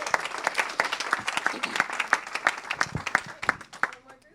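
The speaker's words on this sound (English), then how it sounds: "Let's give him a big round of applause." A small audience claps steadily for a few seconds, the applause dense at first and thinning out before it stops.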